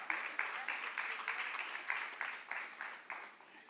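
A congregation at a church worship service applauds with rhythmic, steady clapping that carries on throughout, sounding somewhat distant and soft.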